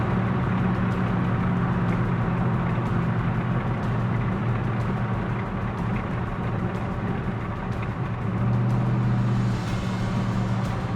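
A Corvette resto-mod with a pushrod engine cruising on a rough road used by trucks, heard from inside as a steady, moderately loud engine and road drone with faint ticks and thumps from the surface.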